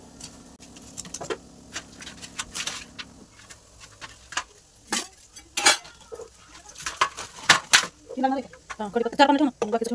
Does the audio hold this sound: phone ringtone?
no